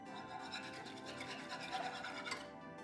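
A whisk scrapes steadily and softly against a pan while stirring a thickening starch gravy for Thanksgiving, a continuous brushy rasp at close range with no voice over it.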